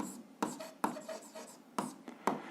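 A pen scratches and taps on paper while an algebra exercise is worked out, with short strokes spaced through the moment, quiet and close, alongside faint voice sounds.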